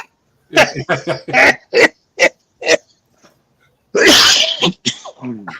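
A sharp sneeze bursts out after a run of short voiced sounds and breaths, followed by a few quick vocal noises; close and fairly loud.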